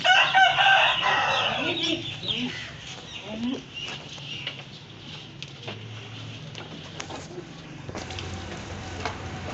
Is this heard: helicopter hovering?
no